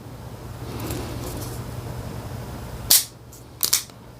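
A Cimarron-Uberti Schofield No. 3 top-break revolver, oiled for storage, dry-fired on snap caps: two sharp metallic clicks, near and fairly loud, the second a quick double snap, over a quiet background hum.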